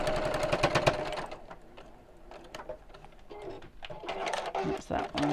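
Sewing machine stitching with a noisy needle, short bursts of rapid mechanical whirring separated by pauses, close, with someone speaking over and between the runs.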